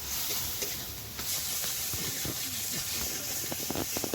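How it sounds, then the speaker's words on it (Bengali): Spice paste with Kashmiri chilli powder frying in a little oil, cooked down until the oil separates, a continuous close sizzling hiss with scattered small pops and stirring scrapes, no one talking. "এবার দিয়ে মশলাগুলো আমি ভালো করে কষে দেবো যতক্ষণ না মশলা থেকে তেল ছাড়বে"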